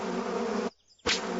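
A cartoon swarm of bees buzzes loudly and continuously, with a brief gap of silence before the droning resumes with a sharp burst.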